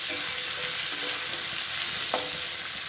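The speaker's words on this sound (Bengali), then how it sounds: "চিকেনের জন্য পেঁয়াজ রসুন ভাজা হচ্ছে" Onion and garlic fry in oil for a chicken biryani with a dense, even sizzle that holds steady and close for the whole stretch, plus a faint stir or two.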